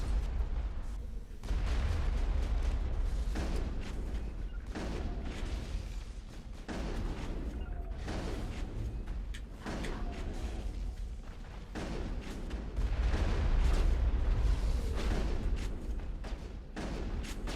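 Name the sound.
gunfire and explosions in the video game Mass Effect 1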